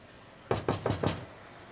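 Four quick, evenly spaced knocks strike a door at close range against a quiet room, with no talking during them.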